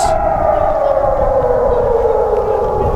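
An air raid siren in Kharkiv, Ukraine gives a loud, sustained wail with a slowly falling pitch, steady and continuous throughout.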